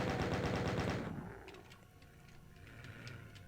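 Rapid automatic gunfire from chaingunner enemies in Doom, played on the Rylayeh 2 map, a dense loud burst of repeated shots that stops after about a second, leaving quieter game ambience with faint distant pops.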